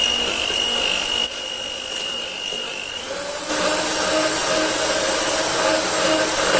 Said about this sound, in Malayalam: കുറേശ്ശെ ഇട്ടിട്ട് ഈ പഞ്ചസാര ബീറ്റ് ചെയ്തിട്ട് എടുക്കുക